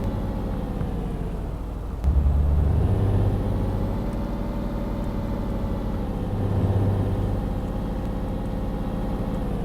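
A simulated heavy truck engine in Euro Truck Simulator 2 hums steadily at a loud, close level, with its tone briefly rising twice as gears shift up. There is no talk.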